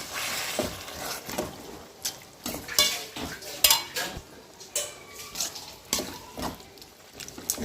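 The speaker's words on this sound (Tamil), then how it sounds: "இப்போ தண்ணி சேர்த்து கிண்டி விட்டுக்கலாம்." A spoon stirs potato masala in a pan after water is added, with repeated scraping and clinking strokes in a steady rhythm over a soft wet sizzle.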